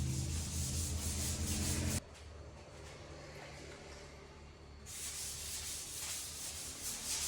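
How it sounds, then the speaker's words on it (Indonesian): Steady abrasive rubbing of 1000-grit sandpaper across a car body panel, continuous with a brief change in tone partway through, close and even. "Untuk nomor 1000 kita amplas secara keseluruhan panel ya"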